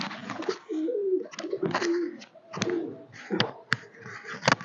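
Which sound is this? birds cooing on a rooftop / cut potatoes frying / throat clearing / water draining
birds cooing on a rooftop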